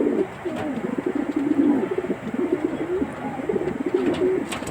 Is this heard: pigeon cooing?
yes